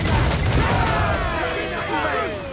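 A volley of ship cannons booms from a sailing vessel in Assassin's Creed IV: Black Flag, a heavy rumbling barrage that rolls on under shouted crew voices and swirling game effects.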